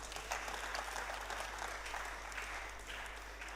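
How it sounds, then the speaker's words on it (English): A conference audience applauds at a renewable energy event, steady moderate clapping over a constant low electrical hum, fairly faint and without talking. "Please, a round of applause for him."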